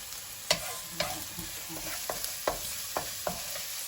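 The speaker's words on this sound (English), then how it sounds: "A lot of you are going to think, God, she's burning the bacon." Bacon fries in a pan with a soft continuous sizzle, broken by a handful of sharp utensil taps and scrapes roughly every half second, nearby and with no talking.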